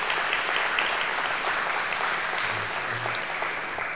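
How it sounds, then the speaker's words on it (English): An audience at a university community consultation meeting gives a brief, steady round of applause, many hands clapping evenly from start to finish. "So if we could just thank all of those folks again with a little round of applause."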